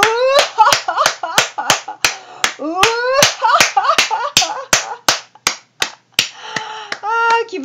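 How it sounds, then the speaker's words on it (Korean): Sharp, loud hand claps during a seated brain-health and dementia-prevention exercise, struck in a fairly regular rhythm close to the listener while a voice sings out sustained, pitched syllables between and over the claps. "이 상태에서 박수를 치면서 웃음 운동 시작."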